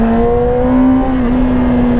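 A Yamaha R sport motorcycle on a road holds a steady, loud engine drone with a strong sustained tone, pulling smoothly at high revs with a slight shift partway through, and no one talking.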